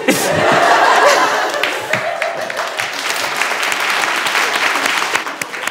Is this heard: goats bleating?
no